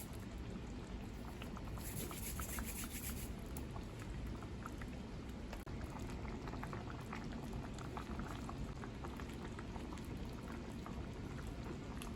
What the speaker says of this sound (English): we're just gonna allow the pot to boil down now into a nice savory gravy